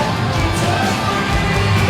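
Wrestling arena crowd cheering and yelling, a loud continuous roar of many voices with scattered shouts rising from the mass.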